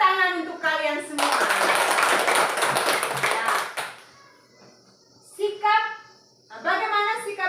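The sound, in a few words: children clapping hands in a classroom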